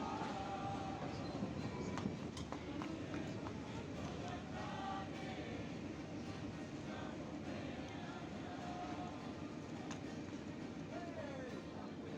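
The Mongla commuter train at Chulkati Bazar railway station makes a steady, faint rumble and rolling clatter, with voices talking over it throughout.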